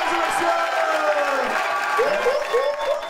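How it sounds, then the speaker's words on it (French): A crowd at a slam poetry final applauds and cheers, with whoops and excited voices rising over a steady bed of clapping, lively and sustained. "Et aussi, Milouche, on applaudit Milouche à la"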